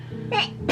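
A person close by indoors lets out a quick breathy sneeze, then a second sharper burst a moment later, over a faint steady low hum.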